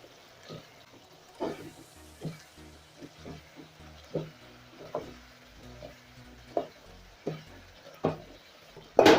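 Tomatoes are mashed into a paste in a frying pot, a run of soft, regular squelching pounding strokes about once a second over a faint sizzle, close and fairly quiet.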